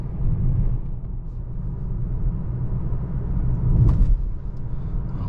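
A 2021 Volvo XC40 Inscription on the road gives steady low cabin rumble, then a single thud near the end as it rolls over a nasty bump.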